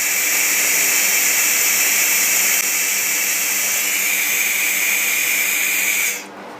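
An AKQ-1000 fiber laser cleaning machine strips paint from metal to prep it for welding, giving a loud, steady, close hissing whine that runs unbroken for about six seconds before cutting off abruptly.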